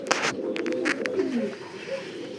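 Pigeons on a fancy and racing pigeon farm coo in low, rolling calls, with a few sharp knocks and rustles at the start.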